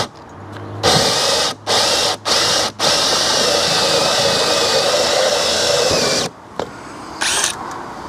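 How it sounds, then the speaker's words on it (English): A power drill whines loudly up close in several short bursts while drilling a hole in an attic, then runs continuously for a few seconds before stopping, followed by brief whirs. "I got this drill set up and I'm up here on the ladder and I'm just gonna put this hole in"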